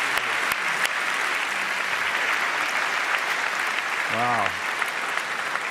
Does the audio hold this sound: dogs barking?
no